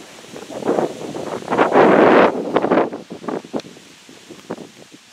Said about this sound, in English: I'm up quite high on a bluff, and the north wind is on my back.